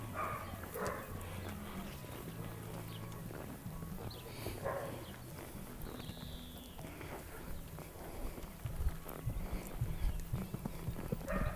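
A horse trotting during a show-jumping training session, its hooves beating a steady, even clip-clop on the ground throughout, with faint background noise and no talking.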